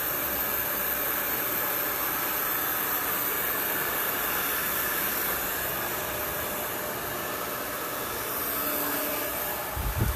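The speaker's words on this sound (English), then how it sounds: "Yeah, so a little twist drying." A hair dryer blows steadily while short cropped hair is twist dried, a loud, continuous airy whoosh that lasts throughout with only slight changes near the end.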